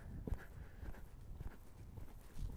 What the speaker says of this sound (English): You can see this horse is loping around.